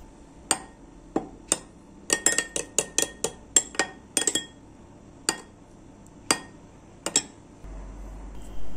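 A utensil stirring spices and oil in a bowl, with a quick series of sharp clinks and taps on the bowl, irregular and close, ending in a soft low rumble.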